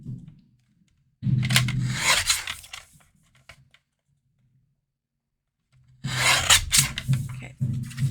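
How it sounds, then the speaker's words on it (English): A paper trimmer cutting card for a handmade Christmas card: two scraping, rasping strokes a few seconds apart, close and fairly loud, with a quiet pause between them and no talking. "I'm gonna trim this, it's a little bit off."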